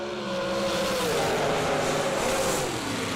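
A pair of drag race cars launch together at a motorsports event, a loud sustained engine roar that rises in pitch as they accelerate away; crowd and track noise sit underneath.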